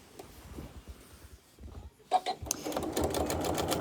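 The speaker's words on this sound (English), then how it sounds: "I'm stitching in the ditch, which means I'm keeping my stitching lines lined up with the seams of the quilt top" A sewing machine stitches in the ditch along the seams of a quilt top, running in short bursts of rapid needle chatter that grow louder and steadier toward the end, close up.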